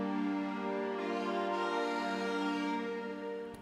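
A wavetable synthesizer in Ableton Live, played with MPE, holds a sustained, harmonically rich chord pad that swells and shifts in timbre, then fades slightly at the end, with no one talking.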